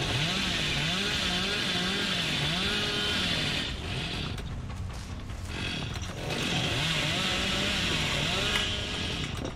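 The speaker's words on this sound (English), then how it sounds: "I want to try and hit with a chainsaw" Billy's chainsaw revving in Dead by Daylight, a loud buzzing engine whine that wavers up and down in pitch, cutting out briefly midway before roaring back for the rest.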